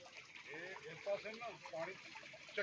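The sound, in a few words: fast-flowing water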